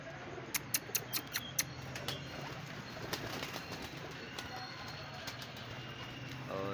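Pigeons at a Pakistani pigeon show, with soft cooing and bursts of wing flapping or clattering near the start, then scattered sharp clicks over a steady low murmur.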